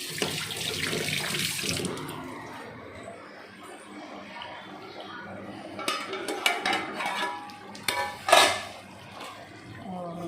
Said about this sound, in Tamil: அதுக்குள்ளே நம்ம கருவேப்பிலை கழுவி எடுத்து வச்சுக்கணும்.